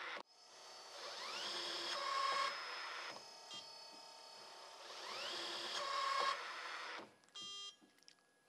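An Atlas Copco tightening tool runs on a hydraulic brake test bench, faint whirring that rises in pitch through two repeated tightening cycles, each ending in a steady tone, followed by a short electronic beep pattern.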